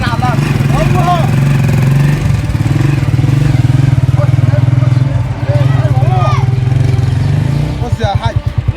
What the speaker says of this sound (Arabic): عايزك تدي واحده سريعه وتبطل المكنه عشان ما يسمعش ايه صوتها